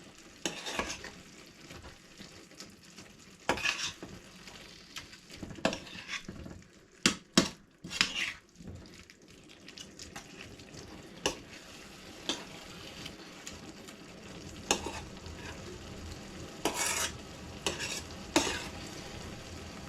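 Börek filling of tomato paste and salt stirred and cooking in a pan, a soft steady sizzle broken by irregular scraping clinks of a spoon against the pan, close and alone with no voices.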